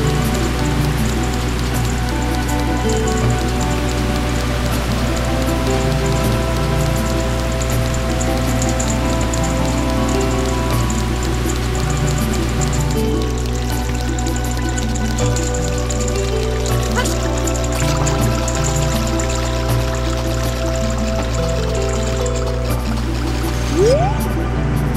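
Rushing waterfall at Zora's Domain in The Legend of Zelda: Ocarina of Time, a dense, steady roar of falling water mixed with game music tones, continuous and loud throughout.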